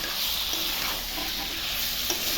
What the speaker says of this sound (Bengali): এখন মশলা দিয়ে কষাবো মাংসটা